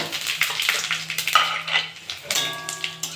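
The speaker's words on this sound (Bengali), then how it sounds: "5 ফোড়নটা একটু ভেজে নেবো।" Panch phoron, dried red chili and bay leaves fry in hot mustard oil with a steady crackling sizzle, broken by clinks of a spoon stirring against the pan.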